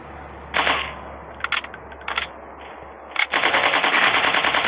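Gunfire in a 3D dinosaur-hunting shooter game on Android: a few short bursts of sharp shots, then a sustained stream of rapid automatic fire at the end.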